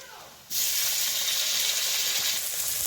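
Chopped tomato dropped into a pan of onions fried until red, setting off a sudden loud, steady sizzle that starts abruptly after a quiet moment and hisses on without letting up.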